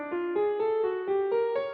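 Piano playing a quick ascending sequence of single notes forming a twelve-tone row, each note struck cleanly in an even rhythm and heard alone, soft and close.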